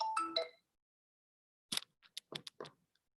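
A mobile phone rings faintly during a live-streamed math lecture: a short melodic chime, a pause, then a rapid series of brief tonal bursts, with no talk over it.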